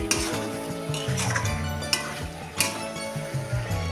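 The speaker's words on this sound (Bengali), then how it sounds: "এবার আলু এঁচোড় একসঙ্গে মানে কষাবো।" Potato and jackfruit (enchor) stirred and sautéed together in a pot for a vegetarian Bengali curry; a spoon scrapes and clinks against the metal in irregular strokes over a faint sizzle, close and alone.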